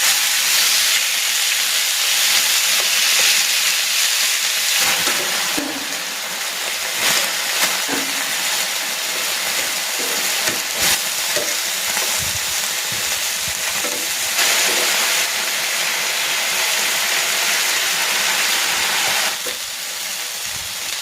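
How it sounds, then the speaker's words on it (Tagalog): Chicken pieces searing in hot cooking oil in a pan, a continuous loud sizzle and hiss with occasional crackles and stirring pops throughout. "I-sear ko muna itong chicken."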